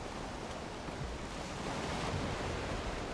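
Stormy wind and rolling sea waves heard while sailing in Valheim, a steady, dense roar of surf and gusting wind that holds at an even level throughout, with no voices.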